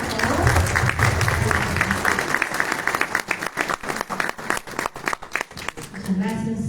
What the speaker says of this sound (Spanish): nuevamente les pido un fuerte voto de aplauso